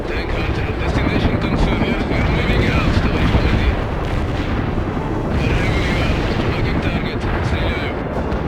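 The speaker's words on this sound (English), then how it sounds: "Helicopter here." A military helicopter in the video game World in Conflict roars with a steady rotor drone amid rumbling battle noise and distant blasts, with voices speaking over it.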